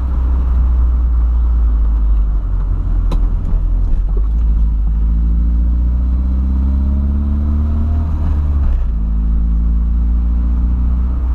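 A Volkswagen Voyage engine runs smoothly at idle with a loud, close, steady low rumble, rising briefly in a couple of gentle revs before settling back, with no voices over it.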